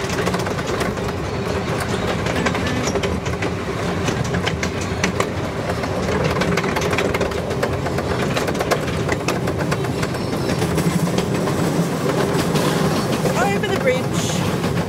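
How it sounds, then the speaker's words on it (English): A small wildlife sanctuary railway train runs steadily, its carriages rattling with a constant rhythmic clatter of wheels on track close by, a continuous loud rumble with faint wheel squeal and some talk mixed in. "Another train."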